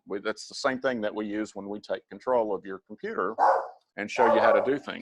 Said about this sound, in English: Sorry about the dog, he doesn't realize.